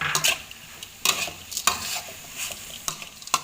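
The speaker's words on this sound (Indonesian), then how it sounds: "nanti saya masukkan ini ikan teri nasi yang sudah saya goreng ya. Saya masukkan, saya aduk sebentar." A spatula stirs already-fried rice anchovies in a pan, giving repeated scraping strokes with a light sizzle underneath, close and fairly loud with no talking.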